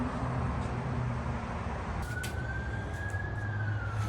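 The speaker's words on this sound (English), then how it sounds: "Let the siren go by and then we'll record." A distant emergency-vehicle siren drifts past in a faint wavering wail, rising and then falling away, over a steady low outdoor rumble near a charcoal grill.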